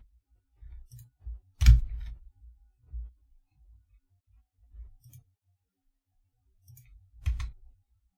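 A few sparse key presses and clicks on a keyboard, separated by quiet pauses, close and fairly soft.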